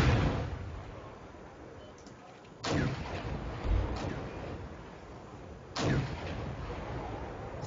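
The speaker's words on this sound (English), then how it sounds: "Still shelling this position all the time, damaging these units" Artillery shelling a position in a real-time strategy video game: two heavy booming impacts a few seconds apart, each a sharp broadband blast fading into rumble, over steady low battlefield noise.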